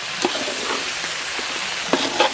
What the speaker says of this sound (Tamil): இப்போ நல்லா கலந்து விட்டுக்கலாம்